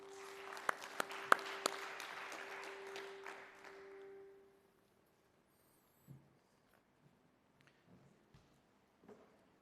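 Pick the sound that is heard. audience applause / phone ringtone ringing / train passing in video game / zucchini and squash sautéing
audience applause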